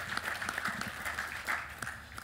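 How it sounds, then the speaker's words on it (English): Pilots at an AOPA town hall at AirVenture 2022 applaud, a moderately quiet, even patter of many hands clapping with slight swells, heard from within the crowd. "Round of applause."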